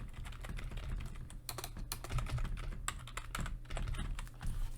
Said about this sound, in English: You type in the file name.